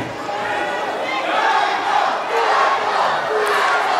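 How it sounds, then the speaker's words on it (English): Lucha libre wrestling fans at a match between Dr. Wagner Jr. and Psycho Clown cheer and chant in a loud, continuous crowd roar, with shouted voices rising and falling in the arena. "The fans cheering on Psycho Clown."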